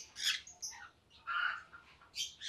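Conure parrots give a series of shrill squawks in short, irregular bursts with brief pauses between them, fairly faint and heard alone.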